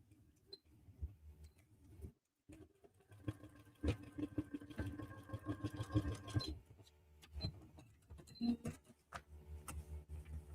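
Sewing machine stitching fabric for foundation paper piecing, bursts of rapid mechanical ticking and whirring that start and stop across the clip, close by with quiet gaps between runs.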